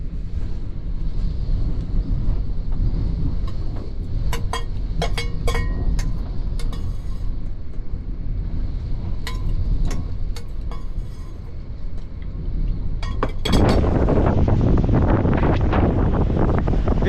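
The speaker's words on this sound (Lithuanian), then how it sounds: "Vėjas po biškį rimsta jau, bet vis tiek žiūrėti negalima net." Strong, roaring wind buffets the microphone on a hurricane-hit island, a continuous heavy rumble with occasional sharp crackling bursts and a louder surge near the end.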